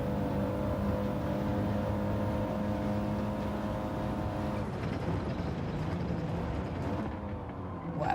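A Toyota Supra race car in Gran Turismo 7 during a league race: a steady, droning engine note holds at high revs, then shifts and roughens as the car passes through, with no talk.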